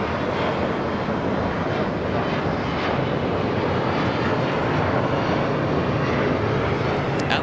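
A Boeing 787 airliner takes off at LAX, a steady, loud jet roar filling the air without a break.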